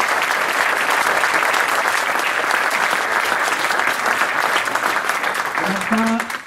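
Loud, dense applause from an indoor audience at a training course for handball coaches, sustained clapping that fades at the end as a voice begins to speak.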